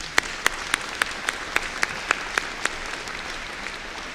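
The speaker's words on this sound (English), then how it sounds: "Let's try a round of applause for Thomas Newsom." Applause at a summer master's degree commencement ceremony honoring Thomas Newsom: about ten sharp, evenly spaced claps stand out close to the microphone over a softer, steady wash of crowd clapping.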